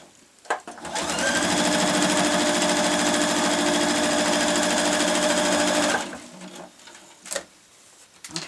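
A sewing machine stitches fabric for a cosmetic bag in one continuous, fast rhythmic run of about five seconds, loud and close, framed by brief handling clicks and quiet moments before and after.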